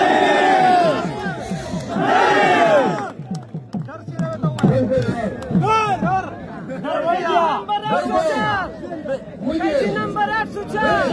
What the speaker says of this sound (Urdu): یہ نعرے ہم نے لگوائے